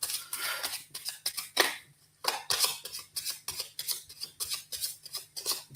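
Lenormand cards shuffled by hand in a quiet room, a run of quick crisp riffling and slapping bursts repeating steadily with a short pause midway, close and fairly faint.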